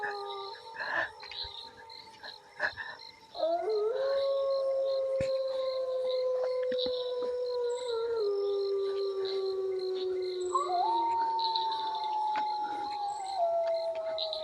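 A dog howls in long, drawn-out tones that shift in pitch step by step over several seconds, with a steady insect-like chirring behind it and a few scattered noises before the howl begins.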